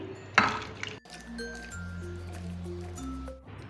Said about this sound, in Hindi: तरबूज के छिलके मैंने पैन में डाल दिए हैं